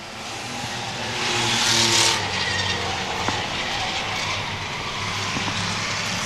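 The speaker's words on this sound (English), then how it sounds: "5 laps to go for Michael Ramsey" Slingshot race cars roar around a short track at a Maine racing event, a dense continuous engine drone that swells as the pack passes close around two seconds, then holds steady.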